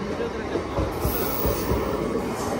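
A train rolling past near a station platform during a Ganpati festival trip, a continuous loud rumble with rhythmic wheel thumps and a faint high squeal throughout.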